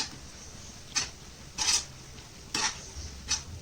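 Ginger garlic paste worked into onion and tomatoes in a pan, a spoon scraping in four short separate strokes over a faint sizzle, fairly quiet with no voices.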